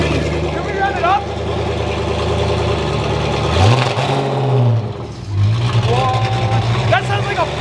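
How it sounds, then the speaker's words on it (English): A straight-piped Ford GT engine revs loudly, climbing and falling through several throttle blips with a rough, throaty rasp, while people talk over it. "That sounds like a proper muscle car."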